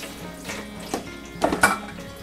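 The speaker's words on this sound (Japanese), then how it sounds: "一応アク抜きのために軽く洗ってますけど" An eggplant is rinsed under a running kitchen tap, with a soft steady water stream and a few clunks and knocks of the vegetable against the sink, close by and with no talk.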